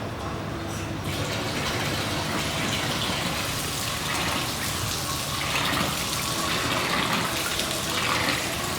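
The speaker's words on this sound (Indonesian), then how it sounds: "Pertama, sorghum ini kita cuci bersih." Sorghum grains being washed in water, with continuous sloshing and running-water noise, close and fairly loud throughout, no talking.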